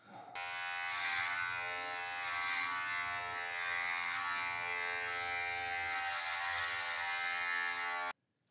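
Electric hair clippers fitted with a number 8 guard buzz steadily at close range as they cut hair, a continuous even drone that stops abruptly at the end.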